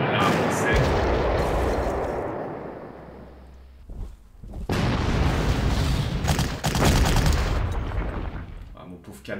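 Panzer Corps wartime strategy game battle in which an 88 gun comes under attack, with dense, loud, continuous gunfire and shell blasts, a brief lull, then another heavy barrage of booms and rattling shots.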